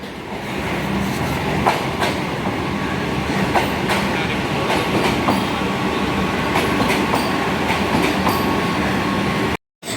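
A Vande Bharat Express bound for Siliguri rolls into a station, a steady close rumble with rhythmic wheel clatter and occasional squeals running continuously before a brief cut near the end.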